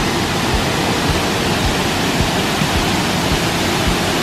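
Mangitngit Falls in Carmen, Cebu pours in a constant, dense roar of falling water, loud and unbroken throughout, with no talking.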